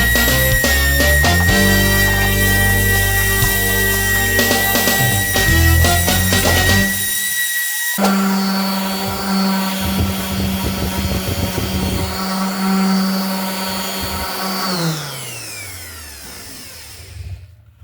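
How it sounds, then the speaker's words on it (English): Loud, continuous whine of a power sander grinding wooden coasters steadily, shifting pitch partway through, then winding down at the end. "Let's get back to this sanding so we can get them done."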